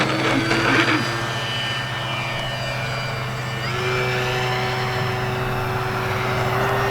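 HSDJets Cessna 182 large-scale RC model airplane during takeoff, a steady close engine whine holding a sustained tone that shifts slightly upward midway, with a brief rough clatter at the start and no voices.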